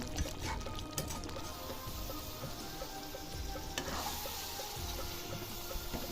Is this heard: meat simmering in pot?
yes